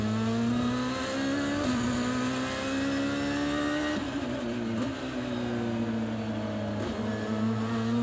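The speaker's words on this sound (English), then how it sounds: "Screams the car through turn 8, which isn't really a turn." A DTM touring race car at the Nürburgring screams at high revs near 265 km/h, a loud sustained engine note with brief dips and shifts as it brakes for a chicane, continuous with no talk.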